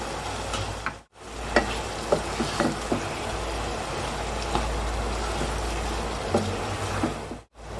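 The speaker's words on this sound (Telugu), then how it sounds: "ఒక నిమిషం పాటు కలిపి టమాటాలు కొంచెం మెత్తబడేంత వరకు ఒక నిమిషం పాటు కలుపుతూ ఫ్రై చేసుకుందాం" Small tomato pieces sizzle and fry in a pan of mutton curry while being stirred, giving a steady hiss with occasional soft scrapes and clicks.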